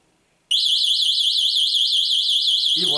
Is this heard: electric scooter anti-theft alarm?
yes